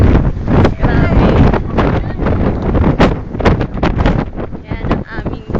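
Strong wind buffeting a microphone on the summit of Mount Tarak in Bataan, a loud, continuous roaring rumble with gusty surges throughout.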